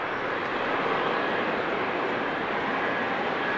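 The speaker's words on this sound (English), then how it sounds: "So this KLM 777 is going to runway 24" A KLM Boeing 777 taxis toward runway 24 at Amsterdam Schiphol Airport, its engines giving a steady, broad, continuous roar at moderate distance with no talking.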